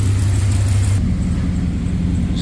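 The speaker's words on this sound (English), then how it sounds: "I got an exhaust manifold leak over here." An idling car engine with an exhaust manifold leak gives a loud, close, steady rumble, its low drone shifting slightly partway through, with a faint ticking hiss and no talking.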